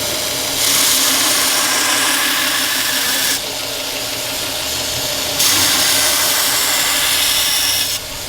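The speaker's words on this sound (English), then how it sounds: "Now when you sharpen it like that, are you just flipping back and forth on each side?" A steel knife blade being sharpened on a powered grinder, a steady loud whirring grind in alternating passes, the pitch shifting as the blade is flipped from side to side.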